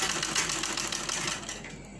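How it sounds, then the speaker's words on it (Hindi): A sewing machine runs the side seam of an A-line frock, a quick steady clatter of needle strokes close to the microphone that eases off and quiets near the end. "साइड में हम सिलाई चला देंगे"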